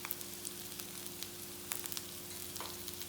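Butter frying in an instant pot, a steady soft sizzle and crackle with faint scattered pops, close and alone without any talk.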